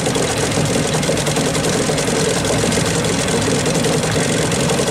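A boat's engine idles close by in a continuous, loud mechanical drone with a low throbbing vibration that holds steady for several seconds, with no talking.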